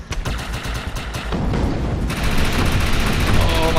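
Rapid automatic rifle fire in the shooter game Defiance, dense bursts that quicken into a continuous roar, loud and close, mixed with other game effects.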